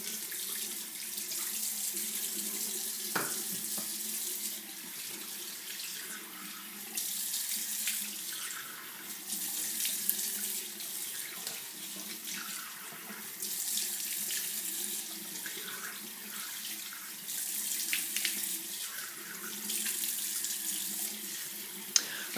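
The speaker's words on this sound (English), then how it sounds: "So you can go ahead and rinse your brush and then rinse your face." Tap water runs steadily into a sink while a facial brush is rinsed during a men's skincare routine, a continuous close splashing stream with slight shifts in flow and no talking.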